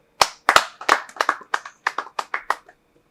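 A small group clapping at a wedding ceremony, a dozen or so sharp, uneven claps close by in a quiet room, spread over a few seconds and fading out.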